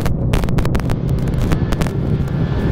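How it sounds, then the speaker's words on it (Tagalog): Strong wind buffets the microphone in a steady, loud roar with rumbling gusts, outdoors in San Fernando, Bukidnon, on a sportbike trip. "At napakalakas ng hangin ngayon"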